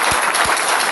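Short burst of congregation applause at a church service, a steady roar of many hands with a couple of stronger thumps near the start.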